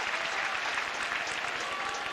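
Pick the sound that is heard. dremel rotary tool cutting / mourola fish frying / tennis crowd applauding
tennis crowd applauding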